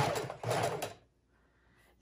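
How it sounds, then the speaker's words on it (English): A sewing machine runs a straight stitch in two short bursts of rapid mechanical whirring, then stops, leaving a near-quiet pause before a faint click at the end. "And I'm doing a straight stitch, single stitch all the way across."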